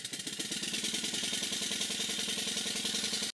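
A Stuart Models beam engine runs steadily after refurbishment, giving a fast, even mechanical chuffing and clicking rhythm that is close and constant throughout.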